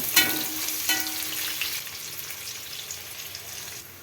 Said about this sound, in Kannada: ನೀಟಾಗಿ ಮೀಡಿಯಮ್ ಉರಿಲೇ ಹುರ್ಕೊಳ್ಳೋಣ